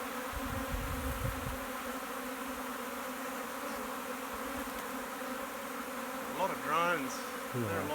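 A honeybee swarm full of drones is being caught in a box, and the insects make a dense, steady buzzing throughout. It is fairly quiet overall, with a brief voice-like sound near the end.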